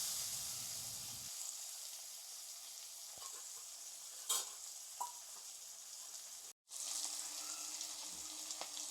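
Two large chopped onions fry in oil for a Bengali fish-head muri ghonto, giving a steady, close sizzling hiss with a few soft clicks and one brief break, with no talking.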